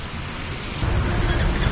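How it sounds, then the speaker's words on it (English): Steady rain on a wet day during a ride outdoors, a dense close hiss of falling water that grows a little heavier partway through, with no voices. "the rain kind of slowed down"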